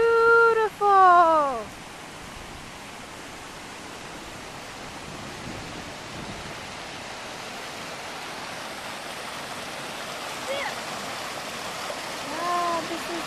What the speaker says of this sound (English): There is a waterfall over there.